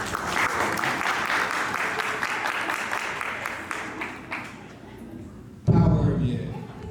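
A crowd at a leadership event claps for volunteers in a dense, steady burst that thins out, followed by a louder voice near the end.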